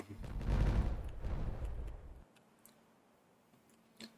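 Dynamite detonates in the beaver colony game Timberborn, a muffled rumbling blast lasting about two seconds that fades out, followed by quiet and a faint click.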